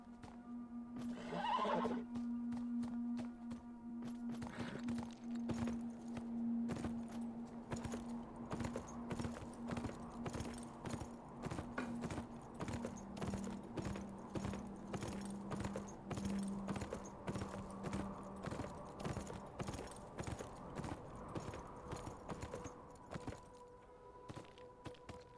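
A horse in the video game Beyond: Two Souls whinnies near the start, then its hooves clop in a steady, repeating walking rhythm for a long stretch before stopping.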